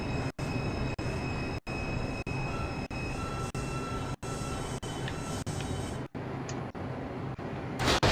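A Brooklyn-bound 3 express train on a Roblox IRT subway mainline runs with a steady loud roar and high wheel squeal, broken by regular clicks as the wheels pass rail joints.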